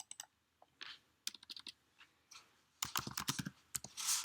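Typing on a computer keyboard to enter a kitchen vegetable-cutting search, with irregular bursts of crisp, close key clicks separated by short pauses and a faster run of keystrokes near the end.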